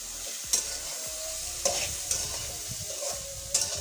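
Carrots, red chili and red and green capsicum sizzle steadily in a hot pan for a soybean biryani, with a few sharp scrapes and clinks as a spoon stirs them.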